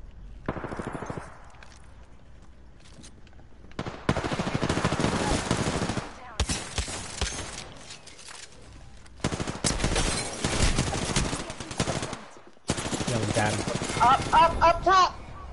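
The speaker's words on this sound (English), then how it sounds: "Opening fire." Weapons fire in the Apex Legends video game comes in several sharp, loud bursts of rapid automatic shots, broken by short silent gaps, with speech mixed in between.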